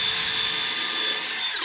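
Electric power drill spins a bit through a workpiece, a steady high whine running continuously at moderate level with no pauses or voices.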